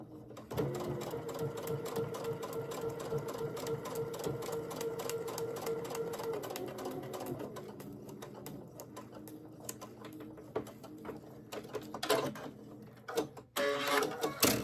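A sewing machine stitches through paper-pieced quilt blocks in a fast, steady run of needle clatter, easing off and giving way to a few scattered handling noises near the end.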